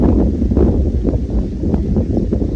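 Dry wind blowing outdoors, buffeting the microphone in a steady low rumble with gusty swells throughout and no voices.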